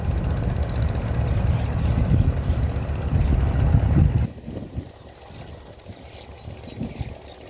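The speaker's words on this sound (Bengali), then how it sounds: "এখন লঞ্চটি সামনে গিয়ে দেওয়া হয়েছে, পুরো ধোঁয়া টোয়া মাইরা ফেলাইছে ইঞ্জিনের" A launch boat's engine runs with a loud, dense, low rumble close by, then drops abruptly to a quieter idle partway through.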